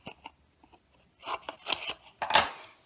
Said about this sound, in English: What you do is just trim up those folds